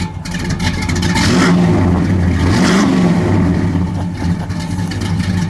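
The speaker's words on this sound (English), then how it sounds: "Give it a rev." A 1969 Pontiac GTO Judge with a Ram Air III V8 revs hard and loud close by, a steady heavy engine roar that swells and settles back, with no talk.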